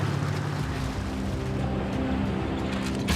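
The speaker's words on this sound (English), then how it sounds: "we're driving in the creek." A pickup truck drives along the bed of a creek on a wet, muddy mining road, its engine rumbling low and steady with water sloshing and splashing around the wheels throughout.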